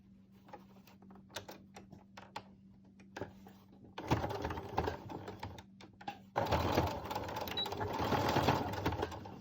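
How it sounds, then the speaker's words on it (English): A sewing machine stitches fabric for a mask in a steady mechanical whir, starting after a few quiet taps and running louder and continuous toward the end. "you take that to the sewing machine and you sew just a little bit"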